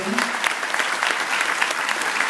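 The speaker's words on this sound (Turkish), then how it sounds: "onlara önce bir kocaman alkış istiyorum" An audience breaks into dense, sustained applause at a Republic Day commemoration, many hands clapping loudly and evenly throughout with no pause.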